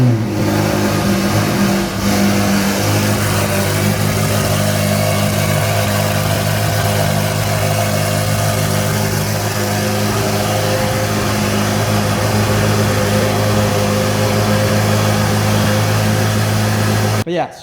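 A carbon fiber supercar with an overtake exhaust runs loud and close, its engine droning steadily at a rich idle with a strong low hum throughout, ending abruptly, while a voice talks at times over it.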